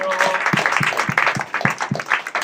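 A church prayer-meeting crowd claps together, a steady patter of many hands with rhythmic beats, fairly close and lively, with some voices mixed in.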